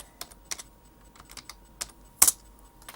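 Typing on a keyboard with one hand: slow, scattered key taps, about a dozen sparse clicks with uneven gaps and one sharper louder strike near the end, close and otherwise quiet.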